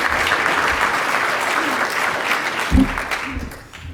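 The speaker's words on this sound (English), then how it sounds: "Please give Kieran McKenna a big round of applause" An audience at a Curious Thinkers 2019 talk claps steadily for several seconds, a dense wash of applause that thins and fades toward the end, with a brief thump near the close.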